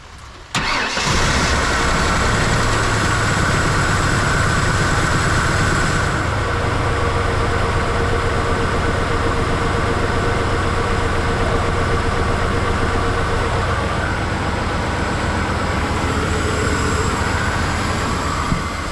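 A 1992 Ford F150 engine under restoration cranks and fires, then settles into a loud, steady running idle up close that carries on for the rest of the stretch without a break.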